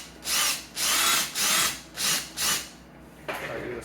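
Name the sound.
power drill drilling a hole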